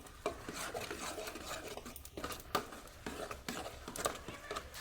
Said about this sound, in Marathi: पाणी आटेपर्यंत असं परतू परतू घेत राहायचं